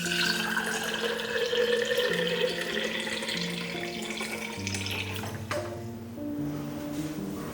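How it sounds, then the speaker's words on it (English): Filtered water pours steadily into a container on a kitchen scale while being weighed out for sourdough bread dough, a continuous close splashing stream that later settles into a thinner trickle. "Now I'm going to weigh out about 350 grams of filtered water."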